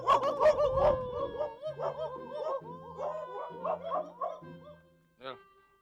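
Several dogs bark, yip and howl close by in a busy cluster of overlapping calls that thins into scattered yelps, with one last sharp bark near the end.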